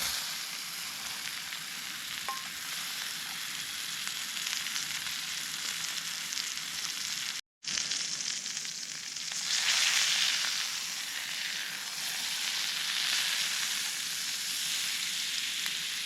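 Food sears in a pan at a solo campsite in Allegheny National Forest, a steady close sizzle and hiss that breaks off briefly, then returns a little louder.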